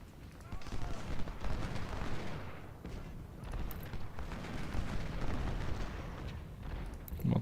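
Cannon and artillery fire from a Civil War battle at Harpers Ferry in Ultimate General: Civil War, dense rumbling booms and crackling volleys rolling continuously at moderate loudness with no talk over them.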